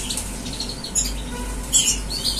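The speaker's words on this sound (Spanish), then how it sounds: "Ahí vienen los gorriones" House sparrows chirp and squawk in short bursts close by, over a steady low hum, with no talking.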